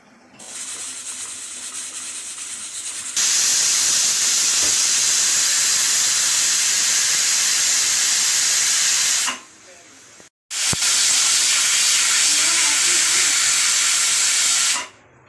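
A pressure cooker on medium gas, cooking veg pulao, lets out a loud, sustained whistling hiss of escaping steam, stops briefly, then whistles again for several seconds before cutting off.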